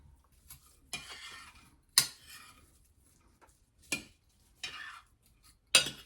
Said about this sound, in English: And I'm going to stir that up a little bit.